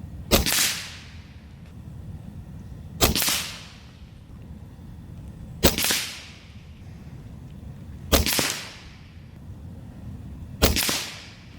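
Five sharp, loud shots from an Evanix Cloud Ultra Plus semi-auto .30 caliber air rifle on a full tank, fired at a 50-yard target, each a crisp crack with a short decaying tail, spaced about 2.5 seconds apart.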